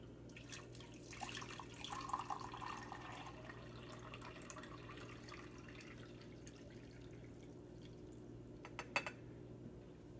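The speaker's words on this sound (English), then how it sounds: "we're going to fill this pot with water" Water runs from a tap into a pot, a steady faint splashing hiss with a few brighter drips near the end, in a quiet room.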